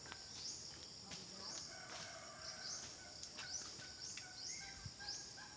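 Various chickens in a coop on a goat and poultry farm: repeated crowing and clucking calls, moderately distant and faint, over a steady background hum, with a person talking now and then.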